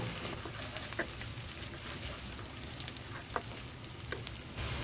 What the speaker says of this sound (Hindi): अब हम इसमें प्याज डालेंगे। प्याज को भी हम हल्का ब्राउन करेंगे।